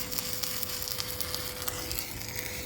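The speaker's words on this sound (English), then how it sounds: "Brad is welding" Welding on the steel lifting lugs and center beam of a homemade crane gives a steady crackling, frying sizzle with small irregular pops, close and continuous throughout.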